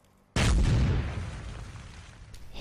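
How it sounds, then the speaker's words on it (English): A single sudden explosion in a tabletop war game's sewer escape scene, hitting with a loud deep boom and rolling into a long rumbling decay, with no voices. "So another explosion."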